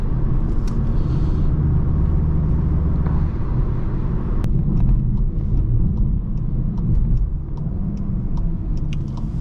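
A 2025 VW Jetta GLI driving on the Autobahn, steady engine drone and road rumble heard from inside the cabin, loud and continuous with a few faint ticks.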